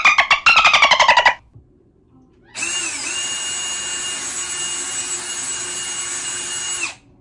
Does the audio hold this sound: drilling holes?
yes